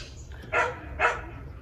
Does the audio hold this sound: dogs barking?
yes